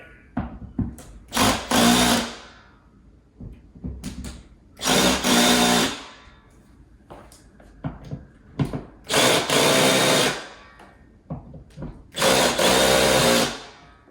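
A power drill drives screws into wall studs while mounting a TV, three loud sustained whirring bursts separated by quieter clicks and handling noises, close up with no talk.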